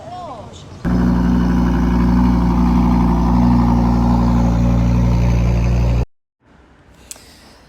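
A Lamborghini Huracán engine holds a loud, steady, deep drone for about five seconds before cutting off abruptly, leaving near silence with faint background sound.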